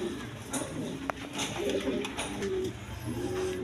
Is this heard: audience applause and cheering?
no